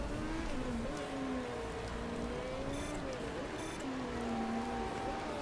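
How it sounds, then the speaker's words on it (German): Rain falling during a race in the Motorsport Manager video game, a steady broadband hiss that runs beneath the whining, pitch-shifting drone of racing car engines passing by. "Und da kommt Regen."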